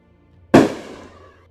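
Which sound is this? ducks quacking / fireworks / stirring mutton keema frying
fireworks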